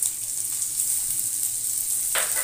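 Ginger and garlic paste hits hot mustard oil in a pan, giving a loud, steady, close sizzle with a brief stir near the end and no talking.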